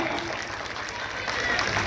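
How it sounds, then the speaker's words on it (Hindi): A crowd applauds at a village gathering on local development work, with dense, steady clapping that fills the space throughout and a voice faintly audible beneath it. "उनके लिए भी जोरदार तालियां"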